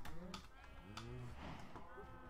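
Sheep in the Minecraft video game, 1.14, bleat several times in quick succession on a farm, wavering calls overlapping one another at a fairly quiet level.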